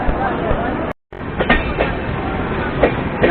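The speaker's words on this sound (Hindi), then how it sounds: "और देख सकते हैं बरेली जंक्शन से डिपार्चर फिलहाल।" Express train departing Bareilly Junction, heard from inside a general coach: steady rumble with rhythmic clickety-clack wheel beats over rail joints, continuous and close, broken by a brief dropout.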